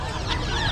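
A chicken gives a single short, loud cluck up close among the caged birds of a pet market in Bocaue.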